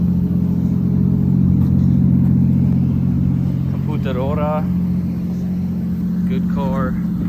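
A Toyota Crown's 1JZGTE engine on a standalone ECU idles steadily, a loud, continuous low drone throughout with a person talking briefly over it.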